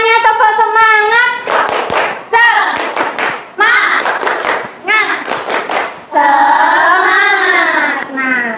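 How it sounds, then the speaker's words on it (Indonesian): A classroom of children performs a rhythmic spirit clap, chanting in unison while clapping patterned bursts of claps between the chanted lines, loud and close. "Semuanya tepuk semangat."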